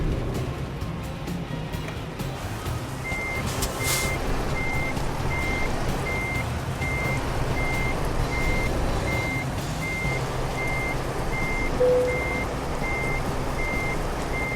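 Reversing beeps of a truck in the American Truck Simulator video game sound at a steady regular rhythm over a constant low engine rumble, with a brief hiss partway through.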